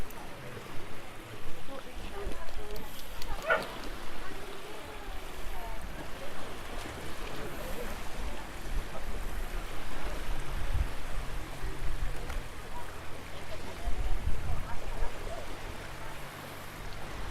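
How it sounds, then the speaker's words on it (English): Sea waves wash and swish continuously against the shore at the harbour of Gorran Haven, a Cornish coastal village, a steady rushing surf with some faint voices and wind in the background. "More swishy swashy waves."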